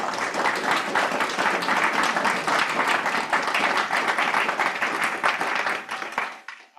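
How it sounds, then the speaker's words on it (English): Steady, dense applause from a lecture audience at a historical society program, strong and continuous before tapering off near the end, with no talk over it. "Could we all give a round of applause to Robert?"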